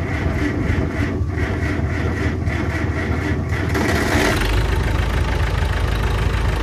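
An old tractor engine cranked with the help of a booster box, then catching and running with a loud, rough, continuous rumble that grows heavier once it fires.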